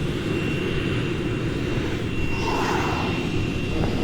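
Airliner engines drone steadily inside the cabin as the flight prepares for takeoff, a loud, continuous low roar with a faint whine riding above it and no talk.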